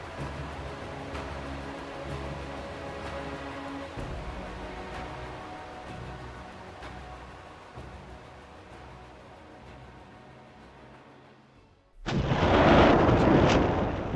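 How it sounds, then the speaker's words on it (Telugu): Golkonda cannon artillery opening fire in a historical battle scene: a long rumbling, roaring barrage fills the first twelve seconds, then a sudden loud blast-like burst cuts in at the end. "ఒక్కసారిగా గోల్కొండ ఫిరంగులు అగ్నివర్షాన్ని కురిపించసాగాయి"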